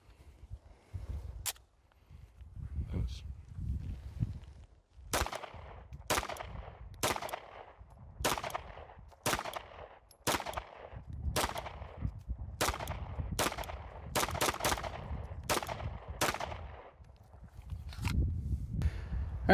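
Loud, sharp gunshots from a CZ Shadow 2 pistol ring out about a dozen times in quick succession outdoors, evenly spaced at roughly one per second with a short pause partway, over faint background rumble.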